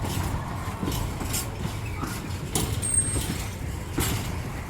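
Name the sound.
train wheels creaking and groaning on a curve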